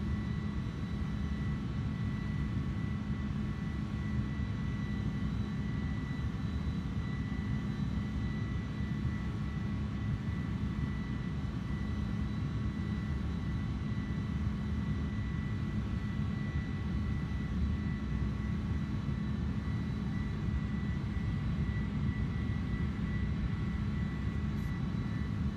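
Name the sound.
big airplane engine in a flight simulator video game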